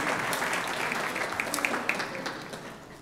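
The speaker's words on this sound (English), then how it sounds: "She loves applause, so why don't you give her some applause?" Congregation at a Unitarian church service applauding, a dense steady wash of many hands clapping at close range, holding at an even level for about three seconds.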